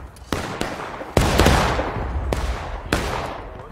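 Musket fire in the Civil War game War of Rights: a handful of loud, sharp reports at irregular spacing, each trailing off into a rolling echo, with a few shots overlapping in a ragged volley.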